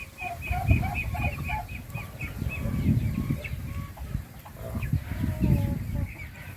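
A large duck flaps and calls while being handled and held down for fattening, giving repeated clucking calls and rustling bursts of wing movement, close and moderately loud throughout.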